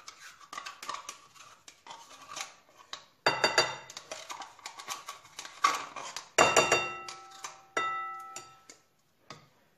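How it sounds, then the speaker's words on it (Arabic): Eggs, oil and yogurt are beaten together in a bowl for a pastry dough, giving sharp clinking taps of a utensil against the bowl in irregular bursts, some ringing briefly, close and alone. "غنخلط مزيان هاد الخليط هذا حتى يندمج ليا البيض مع الزيت ودانون"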